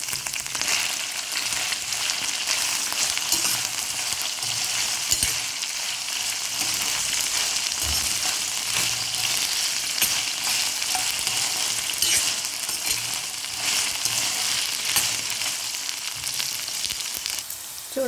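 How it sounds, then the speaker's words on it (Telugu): Cut okra pieces fry lightly in oil, a loud, continuous close-up sizzle with fine crackling pops running unbroken throughout, with no voices. "లైట్గా వీటిని మనం ఫ్రై చేసుకుందాం."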